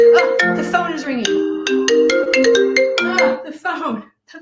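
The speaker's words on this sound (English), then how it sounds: "Oh, the phone is ringing." A phone ringtone sounds as a bright melodic tune of repeated tonal notes for several seconds.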